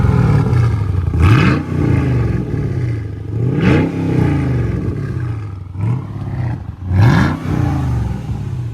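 A Mercedes CLK55 AMG engine revs in a garage after new parts are fitted, three sharp throttle blips climbing in pitch and falling back to a rumbling idle, loud and close.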